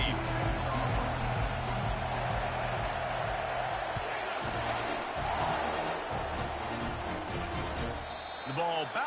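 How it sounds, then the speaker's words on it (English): A packed football stadium crowd roars steadily as Texas A&M kicks off against LSU, a dense, loud, continuous wall of cheering with voices talking over it. "This crowd bringing an ear-splitting welcome to their visitors"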